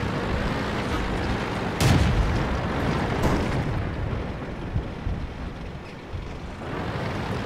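Tank gun in a video game firing HEAT rounds, a loud booming shot standing out from a dense, continuous rumble of battle noise with further distant blasts behind it.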